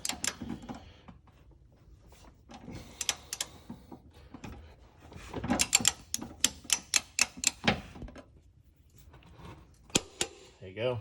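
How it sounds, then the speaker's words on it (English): A torque wrench clicks repeatedly while trailer hitch bolts are tightened down on a 2021 Mazda CX-9, with a run of sharp, close ratchet clicks and ticks, and brief talk early on. "And once you know it's torqued down, it'll click."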